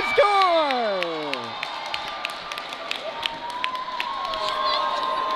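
A crowd at a youth mite hockey game of the St. Paul's Jr. Pelicans erupts after a goal with cheering, whoops and scattered clapping, and a rising-and-falling tonal cry opens the burst before the noise settles into steady applause.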